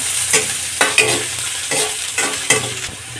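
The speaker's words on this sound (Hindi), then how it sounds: "इसी में हम एक प्याज डाल देंगे कटा हुआ। प्याज को हल्का गोल्डन भूंज लेंगे।" Chopped onion fries in a pan for a street-style veg fried rice, sizzling steadily and up close while a utensil scrapes and stirs in regular strokes, roughly every half second, with no talking.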